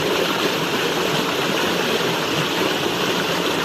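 Water pours and gushes steadily at close range from a Texmo pump on a 6-inch borewell, a dense constant roar with a motor hum blended underneath and no voices.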